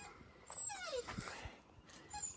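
A puppy whimpers softly, giving faint high-pitched whines and squeaky yips in a short run of rising and falling cries, quiet and close, with no talking.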